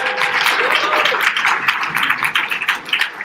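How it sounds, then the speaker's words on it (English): Conference audience giving a speaker a round of applause, dense hand clapping close and steady, then thinning into scattered claps near the end. "Can we give Carl a big round of applause"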